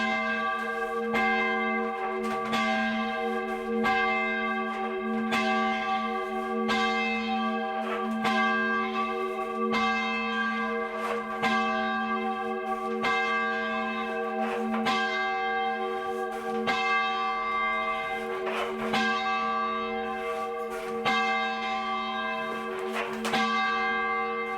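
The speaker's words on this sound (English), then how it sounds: "Now the bell is going up to the balance point" A church bell at St Botolph's, Worthing, rung up by rope, strikes repeatedly in a steady, swinging rhythm, each loud ringing stroke overlapping the fading hum of the last, with no talk.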